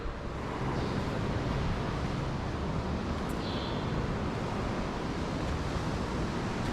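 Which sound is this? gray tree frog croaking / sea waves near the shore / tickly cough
sea waves near the shore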